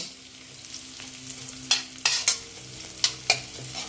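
Garlic frying in a pan for a Thai stir-fried instant noodle dish, a steady low sizzle broken by several sharp scraping stirs of a utensil against the pan, close and alone without talk.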